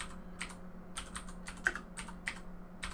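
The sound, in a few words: typing a command on a computer keyboard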